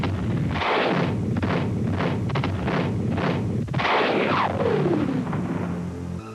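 Anti-tank projectiles are fired in a rapid, loud series of booming reports, several shots in quick succession, followed by a descending whistling scream as a round flies off.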